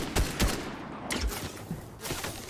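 Gunfire in a Fortnite match: a few separate bursts of shots, moderately loud against a steady game background, spaced out rather than continuous.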